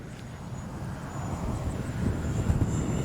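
An Arrows 50mm Avanti S RC jet flies on a windy day, its steady ducted-fan whine carrying from a distance under a constant rush of wind noise that swells slightly toward the end.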